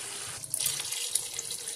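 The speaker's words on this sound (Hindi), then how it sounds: "अब मैं इसमें पानी ऐड करूँगी।" Water poured into a pot of rice for chana pulao in a home kitchen, a soft steady splashing stream with small bright gurgles, faint and alone without talk.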